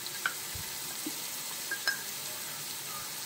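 Onions with salt and turmeric sautéing in a pan for a Kerala toddy-shop fish head curry, a soft steady sizzle with a few faint clinks and scrapes, no talking.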